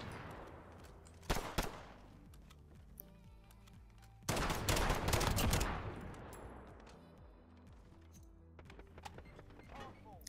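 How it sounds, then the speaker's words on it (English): Dragunov sniper rifle in Modern Warfare fired in quick succession, a few sharp loud reports with a longer burst of echoing blasts in the middle, amid game ambience. "I'm literally just pulling the trigger as fast as possible now"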